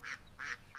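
Three short nasal quacks from a duck, faint and evenly spaced within under a second, with nothing else heard.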